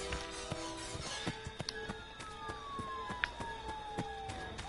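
Police sirens in the horror game Friday the 13th wail in a long falling tone, fairly faint and distant, punctuated by sharp clicks and thumps from gameplay.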